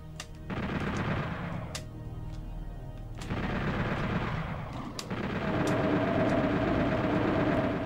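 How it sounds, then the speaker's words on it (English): Rockets fire in DOOM 64 in repeated heavy blasts, each a sharp crack followed by a roaring whoosh and rumbling explosions. The sound stays loud and dense throughout, with no talking. "Why am I shooting rockets?"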